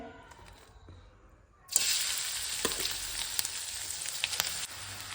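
Coconut and jaggery powder dropped into hot ghee in a pan, setting off a sudden loud hissing sizzle that holds steady after a quiet start, close by and without talk.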